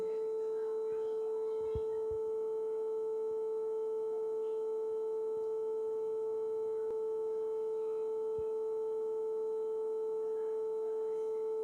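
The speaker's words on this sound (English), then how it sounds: "This is the sound of frequency 440 hertz." A pure, steady 440 Hz sine tone hums continuously at moderate volume, unchanging throughout, with a few faint clicks in the background.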